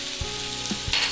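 Capsicum frying in a pan with tomato and ginger-garlic paste, a steady close sizzle with brief stirring knocks, no talking.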